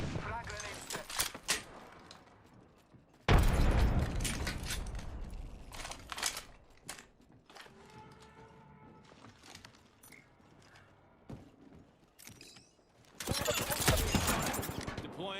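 Video game knuckle cluster and frag grenade blasts: several loud broadband bursts, sharp crackling impacts, with heavier booms near the start and end, mixed with game voice lines and other effects.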